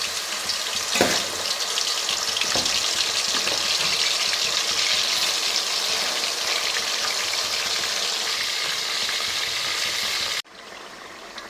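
Pieces of kera fish shallow-fry in hot oil for a Kerala-style pickle. A loud, continuous, even sizzle fills the scene, then cuts off abruptly near the end.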